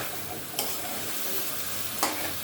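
Cauliflower and potato pieces sautéing in a pan, a dense close sizzle throughout with two sharp scrapes of a spatula stirring, no voices.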